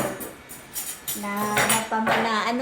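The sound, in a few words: plates, cutlery and wine glasses clinking as they are taken out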